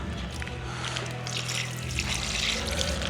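Milk pours into a glass for a protein shake, a steady close liquid trickle running for about three seconds with no talking over it.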